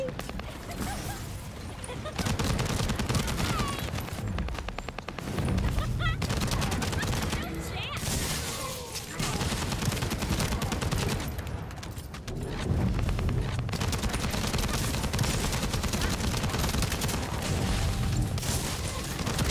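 Sustained automatic gunfire in the shooter game The First Descendant, dense rattling bursts running almost continuously, loud and close, with people talking over it.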